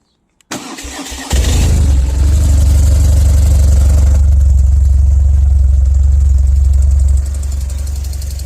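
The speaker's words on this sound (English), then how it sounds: "Let's get this bike started." A 2006 BMW 1200GS motorcycle engine started on the electric starter: a brief cranking whir catches into a loud, close, steady idle that keeps running, then drops slightly in level toward the end.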